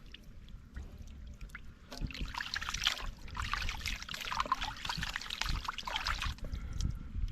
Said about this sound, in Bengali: এখন আমাদের মাংস ধোয়া হচ্ছে